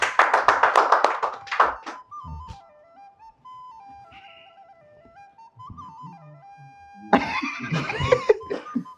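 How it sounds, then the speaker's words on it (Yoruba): Studio audience applause for a contestant on a Yoruba TV quiz show, a dense burst of clapping that breaks out near the end after a man's speech and a stretch of sustained tones. "Ẹ bá ń pàtẹ́wọ́ fún un."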